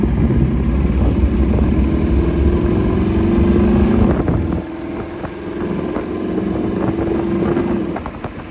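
A '32 Ford Roadster hot rod with IDF carburetors drives off slowly, its engine giving a steady low rumble that drops briefly midway and then builds again, recorded close with some wind noise.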